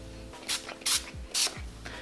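Way texturizing hair spray is sprayed onto hair in three short bursts, each a bright close hiss with brief quiet gaps between them.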